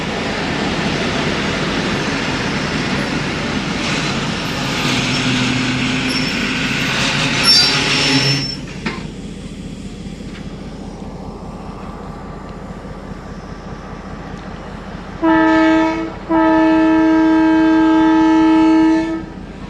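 Pakistan Railways train departing an abandoned station: loud rolling wheels and wagon rumble with squealing, fading away, followed by two horn blasts, a short one and then a longer sustained one.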